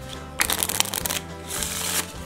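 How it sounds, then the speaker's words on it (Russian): A Nero Young Floral Scythes playing card deck is shuffled up close, giving dense papery riffle bursts in two main runs with a short pause between, no voices. "То есть тасуются хорошо."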